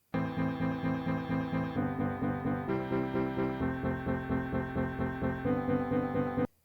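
Looped, chopped piano chords layered over the original sustained chords, a dense pulsing progression with rhythmic repeats and changes every second or so, full and steady before stopping abruptly.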